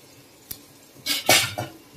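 Soaked whole masoor lentils tipped into a pot of masala: a sharp single clink of a utensil, then a short close rush of wet lentils sliding in, followed by a smaller second pour.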